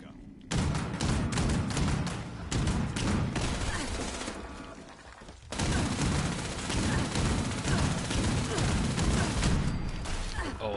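Heavy gunfire from the player's gun in Fallout 76, loud dense bursts of booming shots, with a brief pause midway before the firing resumes just as hard.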